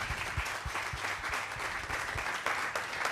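Crowd applause at the Gaithersburg Book Festival for the first responders on site, fairly quiet and distant, with a blur of many hands and a few sharper nearby claps.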